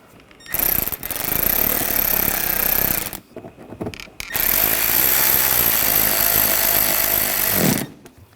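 A power tool drives screws into a Buick Encore bumper cover in two loud, close bursts of rapid hammering rattle, the first about two and a half seconds long and the second longer, separated by short pauses.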